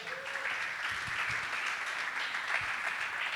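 Church congregation applauding the Lord during a sermon, a soft, steady wash of many hands clapping, fairly distant and faint, continuing throughout.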